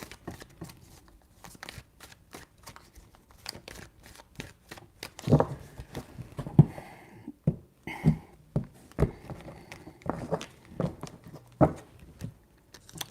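Tarot cards are shuffled by hand in a quiet room, with a long run of quick, crisp riffling taps and slaps of varying loudness.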